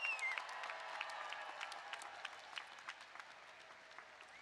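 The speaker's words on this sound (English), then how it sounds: "Let's give them a big round of applause." A crowd applauds steadily at a university commencement ceremony, a dense wash of clapping heard from a distance at a fairly low level, with a few louder claps standing out.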